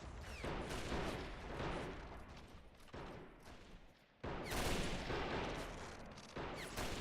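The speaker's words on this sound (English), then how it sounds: "Here we go, artillery." A World War I film battle scene is filled with artillery fire: dense, continuous bursts of blasts and gunfire with short breaks, loud and chaotic.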